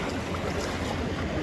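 Waves of the Ganga river lapping and washing steadily, a continuous rushing water sound with a breezy outdoor hiss, no voices.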